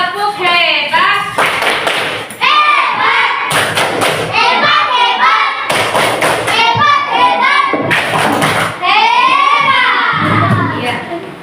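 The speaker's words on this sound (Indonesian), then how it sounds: "Tepuk hebat untuk kelompoknya Akifah" Children in a classroom perform the 'tepuk hebat' clapping cheer, several loud bursts of rhythmic group clapping and thumps alternating with excited young voices and a teacher talking.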